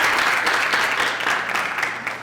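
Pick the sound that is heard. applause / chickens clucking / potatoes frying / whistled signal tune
applause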